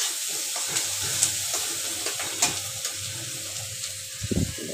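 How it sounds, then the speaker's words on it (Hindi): Flattened rice poha frying in a pan over high flame, a steady close sizzle with light stirring and scraping clicks, no talking. "देखो तेज आँच में अब इसको हम भून रहे हैं।"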